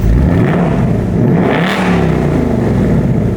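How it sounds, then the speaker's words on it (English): A 2024 Ford Mustang S650 GT with active exhaust revs its V8 loudly and close up, a deep rumbling roar that swells and falls in pitch with each throttle blip, heard alone. "Car has just great exhaust, by the way."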